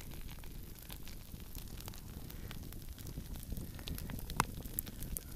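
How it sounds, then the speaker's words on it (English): Campfire crackling steadily with occasional sharper pops, ribs roasting over the flames at a cedar mountain camp after being cooked in a Dutch oven; a close, continuous broadband crackle with no talk. "Yeah, you can just hear those ribs roasting."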